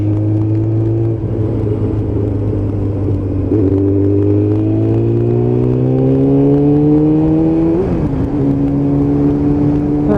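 A motorcycle cruises along a road, leaned into bends on warm tyres, its engine droning steadily and close with a smooth rise in pitch and a brief shift near the end.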